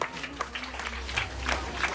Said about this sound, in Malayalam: നല്ലൊരു കയ്യടിയോടുകൂടെ നമുക്ക് വരവേൽക്കാം